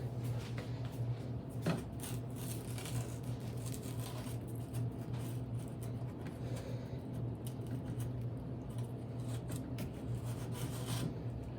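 Steady scraping and rasping of a deburring tool against the cut edge of a horizontal PVC drain pipe joint, continuous and close over a low constant hum, with no talk.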